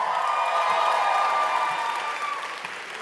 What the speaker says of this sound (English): Clap more, clap more.